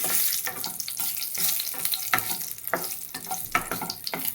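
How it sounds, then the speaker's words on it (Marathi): Five or six cashews being roasted in a hot pan for carrot halwa, a steady soft sizzle with scattered stirring scrapes, close and fairly quiet. "आणि त्याच्यावर हे पाच सहा काजू परतून घ्यायचे गरम करून घ्यायचे"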